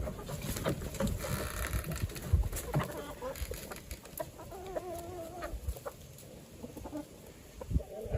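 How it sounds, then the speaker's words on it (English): Hens and a rooster cluck and squawk on a rainy homestead morning, with overlapping calls at close range over steady rain-like background noise. "Release the clucking, maybe?"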